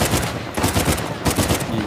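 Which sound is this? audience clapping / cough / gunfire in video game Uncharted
gunfire in video game Uncharted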